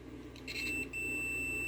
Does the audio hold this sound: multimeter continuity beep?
yes